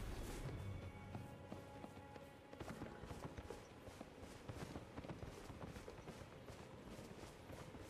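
A horse in the video game Elden Ring gallops away, its quiet, rhythmic hoofbeats pounding steadily over a faint game soundscape.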